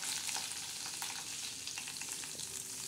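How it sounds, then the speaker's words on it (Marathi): Prawns frying in a pan for a prawn and brinjal curry, a steady, fairly quiet hiss of hot oil with small crackles throughout; no voices. "आता याच्यात प्रथम आपण काय करणार आहे, झिंगे तळून घेणार आहोत."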